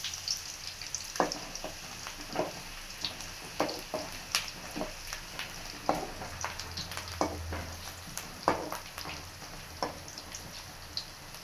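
Dried red chillies fry in hot oil for a lady's finger dish, giving a steady close sizzle with scattered crackling pops and occasional stirring scrapes, with no talking.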